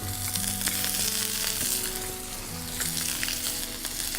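Halibut sizzling in butter in a pan turned up on the heat, a close, steady crackling fry with intermittent spattering pops and faint tonal hums in the background.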